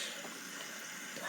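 Running tap water splashes steadily over a vintage late-1970s Barbie doll as it is washed, a continuous close hiss of water with no talking.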